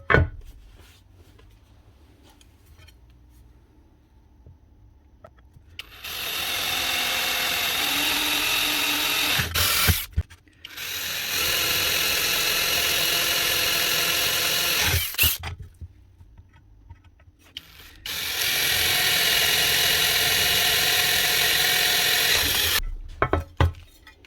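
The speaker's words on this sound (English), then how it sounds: "You have to countersink these as well." Countersinking screw holes for mounting a Makita RP2303FC router to a Trend router table: three sustained bursts of a power tool whirring, each several seconds long, close and loud, with short quiet gaps and light handling noises between.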